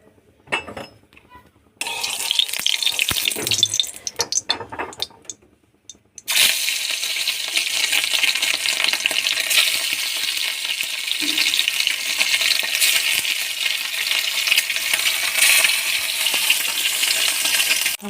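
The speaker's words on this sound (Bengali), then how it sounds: "এটাকে তেলে একটু হালকা ভেজে নেব" Boiled egg pieces, cut in four, are lightly fried in hot oil in a kadai, a bright steady crackle and sizzle that starts loud after brief clinks and settles into a continuous hiss.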